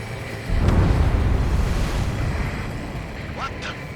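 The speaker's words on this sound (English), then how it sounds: "A huge explosion just went off underwater." A huge underwater explosion in Ace Combat 7 booms out as a deep, rumbling surge that swells suddenly and then lingers as a broad, churning roar, with brief higher whistling tones near the end.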